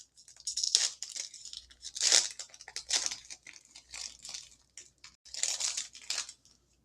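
Donruss basketball card packs ripped open in a quiet room, sharp crinkly foil tears in several separate bursts with rustling and short pauses between them.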